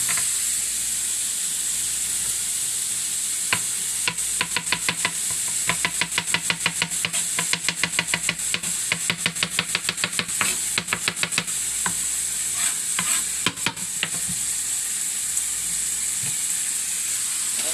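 Garlic sizzling and frying in a hot pan, a steady loud hiss with a long run of quick stirring clicks and scrapes against the pan through the middle.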